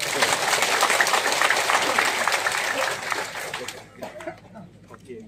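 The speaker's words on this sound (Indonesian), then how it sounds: "Tepuk tangan kita semua." An audience at a political gathering applauds, a dense wash of clapping that thins and fades out near the end, leaving scattered sounds.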